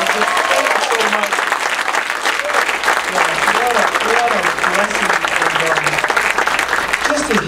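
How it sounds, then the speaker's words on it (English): Audience applause in a church service, loud sustained clapping from a crowd filling the space, with faint voices mixed underneath. "Can we give them another just a round of applause?"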